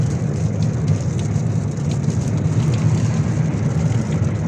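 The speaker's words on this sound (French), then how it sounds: "il y a de la pluie" Rain during a road trip through Romania, drumming steadily on a moving car with a low road rumble underneath, continuous and close, with no voices.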